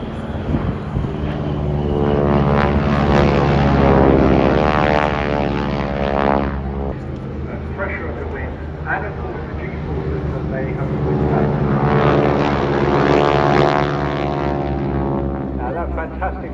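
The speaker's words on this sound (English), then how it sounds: "that fantastic roar comes from the Pratt & Whitney R985 engines, their 9-cylinder radials, packing out about a 450 horsepower." A propeller aircraft powered by Pratt & Whitney R985 nine-cylinder radial engines of about 450 horsepower roars past at an air show, a loud, throbbing drone that swells and eases, with commentary spoken over it.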